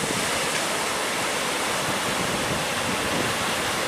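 Heavy surf from big sea waves washes steadily around a small boat out at sea, a loud, continuous roar of rushing water with no pause or talk.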